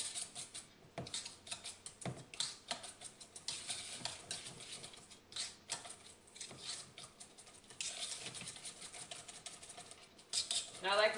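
Hand-whisking kabocha muffin batter in a bowl: steady, fast scraping and clinking of the whisk against the sides, continuing throughout with light, close-up patter and a voice talking now and then.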